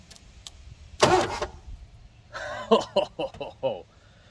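A 1987 Mercury Grand Marquis LS engine cranks over in a brief, loud burst of starter whir, followed by a string of short, uneven mechanical bursts close by, with faint voices around it.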